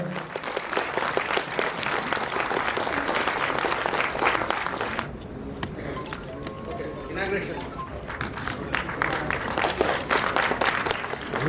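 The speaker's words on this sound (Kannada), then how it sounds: "ಜೋರಾದ ಚಪ್ಪಾಳೆ" Loud, sustained applause from an audience at a memorial ceremony for Vishnuvardhan, a dense crowd clapping that briefly thins midway before swelling again.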